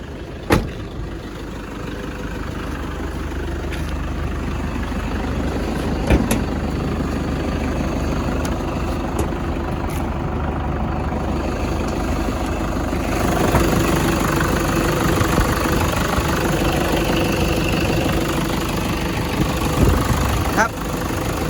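A 2003 Toyota Hilux Tiger with a 2.5 D4D diesel engine idles steadily throughout, a constant low mid-level rumble with occasional clicks and someone talking over it now and then.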